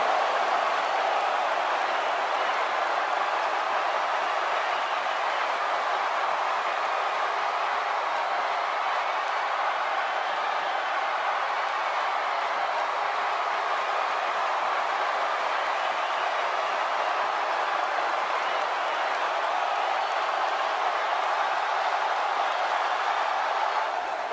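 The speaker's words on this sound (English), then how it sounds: "Judging from the reaction of this Santa Clara crowd" A large wrestling crowd at Santa Clara claps and roars in a steady, distant wash of applause that holds unbroken and even for the whole stretch.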